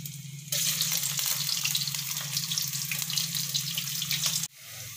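Potato chips frying in hot oil, a loud, dense, steady sizzle close by that starts abruptly and stops just as suddenly near the end, with a low hum underneath and no talking.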